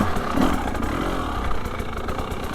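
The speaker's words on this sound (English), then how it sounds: "I like the way the engine runs, and it's a two-stroke" A 2025 KTM 300XCW Champion Edition two-stroke dirt bike engine runs close by, a steady buzzing drone with slight swells in pitch throughout.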